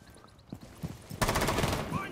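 Gunfire in a video game: a few scattered shots at first, then a dense, rapid stream of automatic fire from just past the one-second mark, loud and continuous to the end, with some talking beneath.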